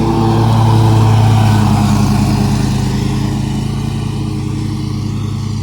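A 24-horsepower zero-turn mower with a 61-inch deck cuts grass nearly wide open, a loud, steady engine drone with a constant whirring hum that tapers slightly toward the end.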